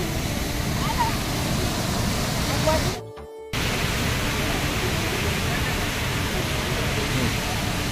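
Gundichaghagi waterfall in Kendujhar pours in a steady, loud broadband rush that fills the scene, briefly dropping away for a split second midway before resuming unchanged.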